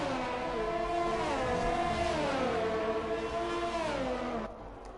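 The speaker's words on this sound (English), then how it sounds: "those revving glitches are lovely to listen to" A whining car engine in a racing video game revs in wavering, glitchy stepped pitches that rise and fall unevenly, steady and loud before dropping off abruptly near the end.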